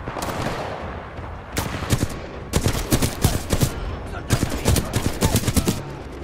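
Titanfall 2 game combat: rapid bursts of gunfire crackle in repeated loud volleys with short pauses between, over a noisy battle background.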